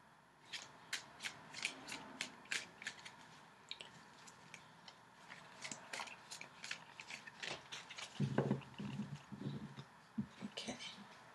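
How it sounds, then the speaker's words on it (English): Tarot cards are shuffled by hand in a quiet room, giving a rhythmic run of soft, close riffles and taps with a brief muffled pause partway through. "So I'm shuffling the cards."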